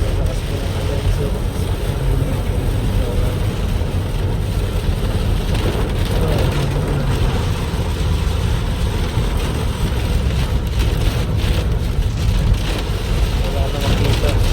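Heavy rain drums steadily on a car while it drives through a downpour on the way to Balihan in Cebu, with road and engine rumble underneath and people talking over it at times.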